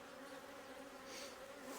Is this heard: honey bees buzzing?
yes